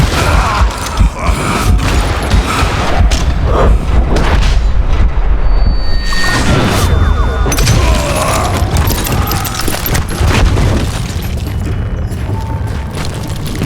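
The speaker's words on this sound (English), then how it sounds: "All it takes is one tiny spark, and boom." A mine explodes in the Western shooter game Call of Juarez: Gunslinger, a loud, sustained blast of booming rumble and crashing debris with creaking, mechanical noise layered throughout.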